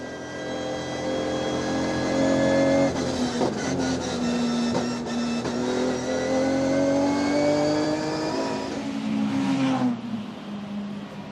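Onboard engine of the number 50 race car at the Nürburgring 24 Hours on the Nordschleife, a loud, continuous whine that rises and falls through gear changes, with brief breaks and a drop in pitch near the end.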